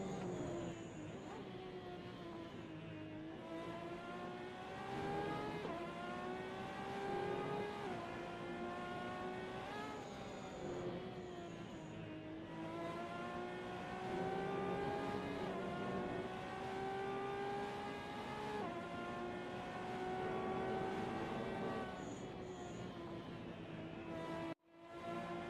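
A race car engine in a racing video game, droning steadily on an outlap to warm the tires, its pitch rising and falling through gear changes over about twenty-five seconds, loud and close with no talking.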